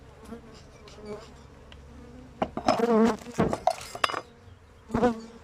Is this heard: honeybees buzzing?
yes